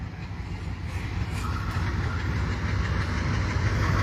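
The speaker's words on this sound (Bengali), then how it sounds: "মোটামুটি গতি নিয়ে ট্রেনটি এগিয়ে আসছে।" A train hauled by a WDM 3D diesel locomotive, the Rupsha Shimanto Express, rumbles steadily closer at moderate speed, its deep continuous roar growing slightly louder, with faint clattering of wheels over the rails.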